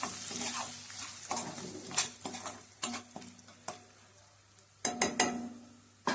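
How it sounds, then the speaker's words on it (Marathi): A clam curry is stirred in a pan after salt goes in, giving a series of scraping, clinking stirs over a low simmering sizzle, with a cluster of sharper knocks toward the end. "त्याच्यानंतर हे आपण सगळं ढवळून घ्यायचं."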